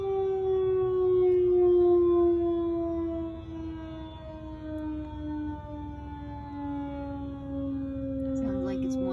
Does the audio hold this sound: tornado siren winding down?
yes